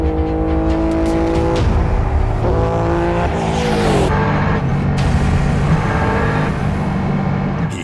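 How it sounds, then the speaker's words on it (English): A twin-engine streamliner motorcycle screams at speed on a high-speed run near 209 mph, its engine note loud and continuous, with wavering, unsteady pitch as it fails to rev cleanly. "He hits 209 miles per hour, but the machine struggles to rev cleanly."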